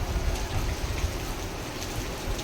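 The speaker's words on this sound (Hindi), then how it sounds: "बहुत अच्छी बारिश हो रही है" Heavy rain pours down steadily at Badrinath in the early morning, a dense, unbroken hiss with close splatter on surfaces, loud and continuous with no talk.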